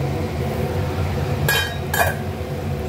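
A metal lid is set onto a pan of frying dhenki greens and potatoes, with two sharp clinks a moment apart over a steady background sizzle.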